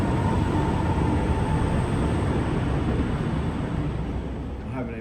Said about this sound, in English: Bulk of that train is still coming around the corner.